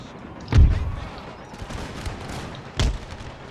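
Musket volleys and artillery fire from a battle in the video game Empire: Total War (Darthmod), with two sharp, loud booming bursts about two seconds apart, each trailing a low rumble over a steady hum of distant battle noise.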